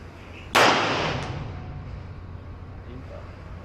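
A single sharp pistol shot cracks at an outdoor shooting range, loud and close, with its echo decaying over about a second amid faint background voices.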